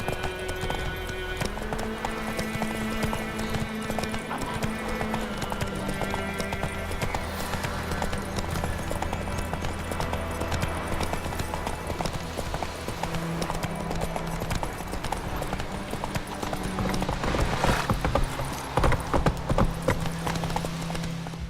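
Horse hooves clip-clop steadily through The Witcher 3, a constant rhythmic trot layered over game music and ambience, with an occasional whinny and the pace quickening near the end.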